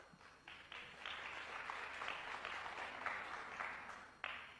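Crowd applause at a 2002 World Pool League match between Steve Davis and Efren Reyes, a sustained wash of clapping rising in bursts for a difficult safety shot, steady and fairly loud throughout.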